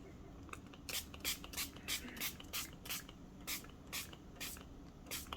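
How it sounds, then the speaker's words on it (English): Shimmer spray bottle spritzing onto tissue paper in about a dozen short, sharp hissing bursts at a steady rhythm, close up and alone. "All right, so let's spray this."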